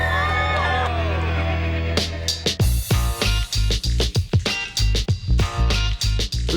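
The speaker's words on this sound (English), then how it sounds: "Big round of applause, please, from Lou." Applause and cheering from a crowd burst in suddenly, loud and near, with rhythmic clapping and shouted whoops that keep rising and falling, replacing an earlier steady background tone.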